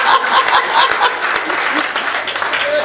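Audience at a Hindi comedy poetry gathering breaks into loud, sustained applause, a dense crackle of many hands with faint chuckles mixed in.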